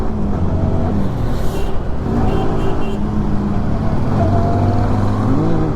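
A Yamaha R15M motorcycle pulling hard on a Bangalore road: a loud, continuous engine drone whose pitch climbs and dips under rushing wind, with no pauses.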